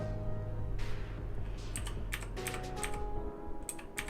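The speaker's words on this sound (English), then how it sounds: "now I'm typing wrong" Someone types steadily on a computer keyboard during web development work, with close, rapid, irregular key clicks running over a steady background hum.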